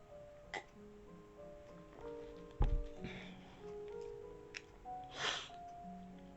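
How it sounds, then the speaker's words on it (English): A person hiccups while reading a story aloud, a few short, abrupt catches of breath spread between quiet stretches, close and soft. "Got the hiccups."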